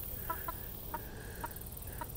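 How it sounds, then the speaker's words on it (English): A Polish chicken clucks outdoors on a homestead in short, sharp, evenly spaced clucks, about six over two seconds, fairly faint over a steady background hiss, with no talk. "She's a Polish chicken."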